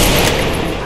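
Continuous loud rapid gunfire from the Free Fire mobile shooting game, a dense unbroken burst that fills the short moment.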